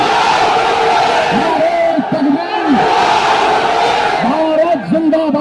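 A large political rally crowd roars in unison with a cry of Naara-e-Takbeer at an AIMIM gathering in Saharanpur, swelling in two loud bursts over a constant din of voices.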